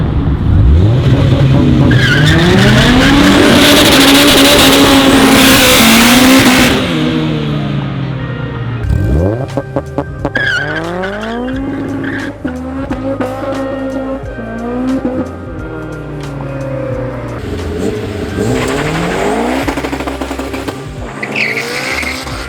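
Supercharged Honda S2000 launching, with a loud engine rev and screeching tire squeal, then rapid acceleration through gear changes and further revving, close and dominant.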